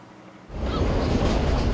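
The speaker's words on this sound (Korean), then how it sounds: "숨가쁘게 초록의 고원을 넘어온 기차가 종착역에 들어섰습니다." A train enters Nanu Oya terminal station after climbing through highland tea country, a sudden loud broadband rumble and rattle that swells in and holds steady, fairly close by, with no voices.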